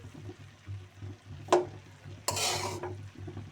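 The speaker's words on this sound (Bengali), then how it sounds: "একটু নেড়ে ছেড়ে দিয়ে মিক্স করে নিলাম" A spoon stirs coriander leaves into poa fish curry cooking in a pan, giving a soft, close bubbling sizzle, one sharp clink of metal, and a brief louder rush of frying toward the end.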